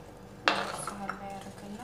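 A knife sliced through an apple on a plate, heard as one sharp clink of metal on the dish that rings briefly, followed by softer scraping and light taps, close and fairly quiet.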